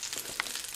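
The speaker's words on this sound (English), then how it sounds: "My butter is sizzling away." Steady crackling sizzle of butter in a hot frying pan, soft and continuous, with a brief brighter pop partway through.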